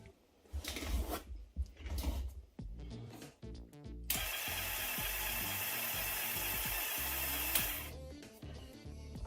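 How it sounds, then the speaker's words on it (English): The small electrolyte pump of a homemade aluminium-air flow battery starts after some clicks and handling noises, then runs as a steady, faint buzzing whir for several seconds before a brief change near the end. "now I will turn on the pump and I will see if this system will work"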